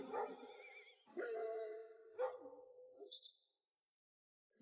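A dog barks and whimpers in a few short, fairly loud bursts with tonal whines, followed by a brief pause and a last sharp yip at the end.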